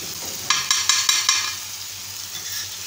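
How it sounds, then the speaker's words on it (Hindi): Tomatoes mashed with a masher in a cooking pan, with a run of five sharp rhythmic taps and squelches over a steady sizzling fry, then softer scraping as the mashing eases off. "एक मैशर की मदद से टमाटरों को अच्छी तरह से मैश कर लेंगे।"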